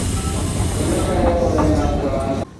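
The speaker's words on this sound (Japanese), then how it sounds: "乗ってきた電車から下車します" A Nankai Koya Line train rolls into Gokurakubashi Station, a mountain terminus, with a loud, steady rumble of wheels on rails and faint squeals as it slows. The noise drops abruptly near the end.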